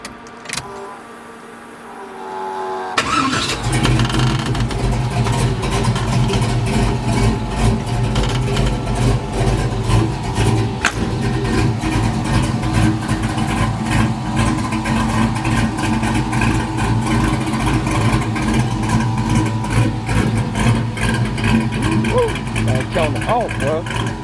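A V8-powered Chevrolet S10 pickup fires up after a quiet moment, then runs loud and close with a deep, rumbling exhaust, with the revs rising and falling as someone talks over it.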